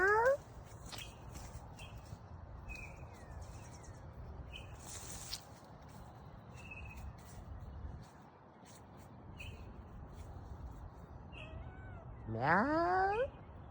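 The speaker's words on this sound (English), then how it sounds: "Meow." Kittens mew softly in a quiet room, with a few faint high cries scattered through and a louder, rising meow near the end, all close and without talk.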